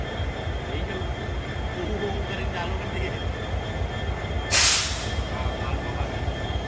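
A train rumbles steadily along with a low, continuous rolling drone, and a sharp burst of hiss cuts in briefly partway through.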